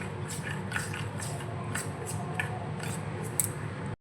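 Green food colour being stirred into a rice flour and water paste, heard as quick, rhythmic wet scraping strokes, close and fairly crisp, about a dozen in a row before stopping abruptly, with no voices.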